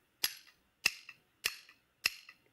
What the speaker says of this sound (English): Are you ready to play the spoons?